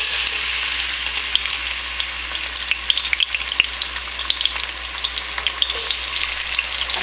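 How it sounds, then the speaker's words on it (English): Chopped onion sizzles and crackles steadily in heated oil in a pan, a close, continuous dense frying hiss with occasional stirring pops, no talking. "when the oil is heated up, we put in our chopped onion"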